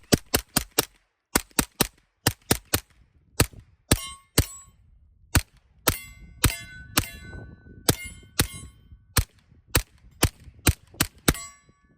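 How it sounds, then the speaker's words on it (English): Suppressed rifle shots from a Witt Machine & Tool Mod-1 suppressor fired into dirt outdoors, about two dozen sharp, ringing cracks at an uneven pace with occasional quick pairs, each dying away fast. "I'm gonna put some rounds just into the dirt, see how this suppressor sounds."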